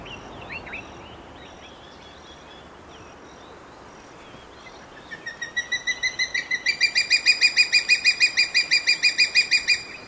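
A juvenile crowned eagle calls in coastal forest at a lagoon's edge in KwaZulu-Natal, giving a long run of clear, high, rhythmic repeated notes that grow louder and quicker after a few seconds of faint background birdsong.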